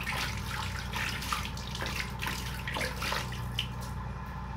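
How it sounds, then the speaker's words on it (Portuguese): Tap water runs steadily into a sink while a cup and spoon are washed, with continuous close splashing and a few light clinks, no speech. "Agora eu vou lavar aqui a xícara"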